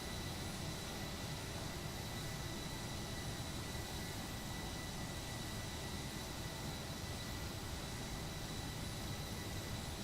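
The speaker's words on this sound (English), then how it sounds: "You can hear the engines pulling up." Airbus A321 jet engines spooling up for takeoff in the Prepar3D flight simulator, a steady, dense broadband roar that holds at an even level throughout with no talking.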